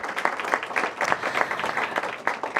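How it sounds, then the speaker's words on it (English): Audience applause follows a call to welcome a guest at a District of Columbia funding announcement for small businesses, a moderate, steady patter of hand claps from a medium-sized indoor crowd without speech. "Give him a big round of applause."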